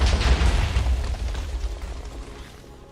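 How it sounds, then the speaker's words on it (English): Chain of missile explosions in modded Minecraft Origins gameplay: a loud, deep rumbling boom with several overlapping blasts at the start, slowly fading into a long low decay. "So with that missile, it created a chain of missiles that did a lot of damage."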